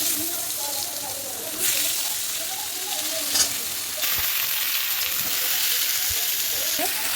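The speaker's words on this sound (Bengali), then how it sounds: "আলু কুমড়োটা এই তেলের মধ্যে দিয়ে দেবো।" Chunks of potato and pumpkin fry in hot oil already tempered with bay leaf and cumin, giving a loud, dense, continuous sizzle close up. Occasional stirring clatter rises above it.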